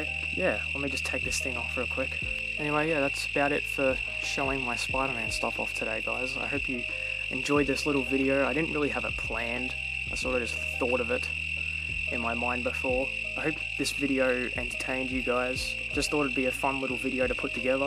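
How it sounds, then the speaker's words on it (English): A steady, loud cicada drone fills an evening outdoor setting from start to finish, while someone talks over it at length. "They're just cicadas at this time of the day"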